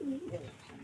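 A domestic pigeon coos close by in a short, soft, throaty burst of low warbling notes, with faint voices in the background.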